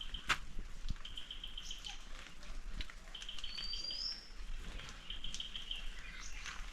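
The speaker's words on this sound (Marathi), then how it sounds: "संध्याकाळचं असं वातावरण थोडा थोडा आवाज येत असेल पक्ष्यांचा" Birds call in countryside at evening, with repeated thin, high trilling chirps and a few sharp single notes, fairly faint and distant over a soft outdoor hush.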